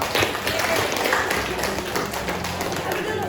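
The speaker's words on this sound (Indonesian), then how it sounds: "Ya, tepuk tangan dulu." A classroom of students claps after a group presentation, a dense, close patter of hands that stays even for a few seconds.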